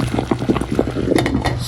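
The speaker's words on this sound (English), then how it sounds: "Right now it's steaming, it's boiling." Rose petals simmer in a pot of steaming water, giving a soft, continuous bubbling and gurgling with scattered small pops, close and steady throughout.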